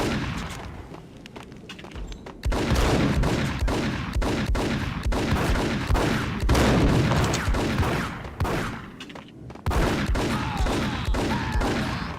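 Dense, sustained gunfire in the noir shooter Max Payne Remastered, loud bursts of rapid shots and booms running almost continuously, with one brief lull near the start and another short break later.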